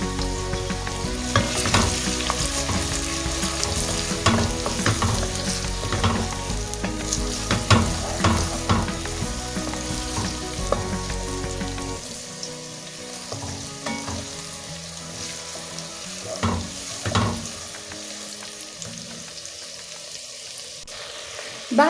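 Two small chopped onions hit a hot pan for stuffed cabbage, sizzling loudly with spoon scrapes and clatters, then the frying hiss thins and quiets halfway through while occasional stirring knocks continue.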